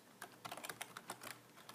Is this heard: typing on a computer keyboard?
yes